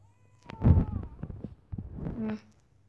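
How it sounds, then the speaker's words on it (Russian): Cat meowing in the horror video game The Baby in Yellow, two drawn-out meows close and clear with a short pause between, nothing else over them. "А, кот! Точно!"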